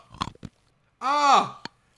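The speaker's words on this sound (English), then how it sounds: "Who chews teeth? Who eats a tooth?" Crunching of a tooth being chewed in the horror game Corpse Party: Book of Shadows, a few short wet crunches, then a drawn-out vocal groan and one final crunch, close and fairly loud.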